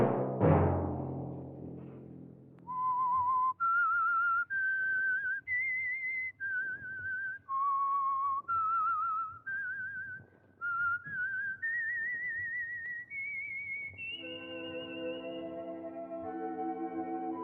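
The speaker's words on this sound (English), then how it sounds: "Let that whistle be your signal for the Signal Oil program, The Whistler" A lone whistler performs the signal tune of the radio program The Whistler, a slow, eerie melody of sustained rising notes, clear and close with no talking.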